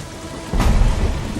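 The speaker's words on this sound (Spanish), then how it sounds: "Pero no podrán guarecerse de esta tormenta." Thunderstorm with steady rain falling, then a loud close crack and rumble of thunder breaking in halfway through and rolling on over the downpour.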